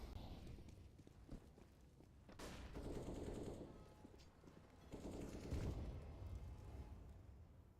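Pistol gunfire in a Counter-Strike esports match, faint scattered shots and short bursts mixed with footsteps and game ambience at low level.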